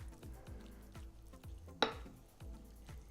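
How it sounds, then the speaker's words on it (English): Hot black-eyed peas being gently stirred in vinaigrette, giving soft repeated scraping and squishing strokes in a steady rhythm with one sharper clink partway through, close and fairly quiet. "I'm going to slightly stir them to get them covered up."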